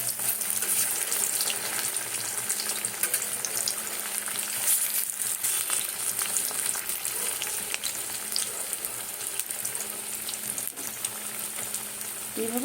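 Vegetable pakoras fry in hot oil with a continuous crackling sizzle that holds a fairly steady level throughout, close up and fizzy, with occasional small pops and no talking.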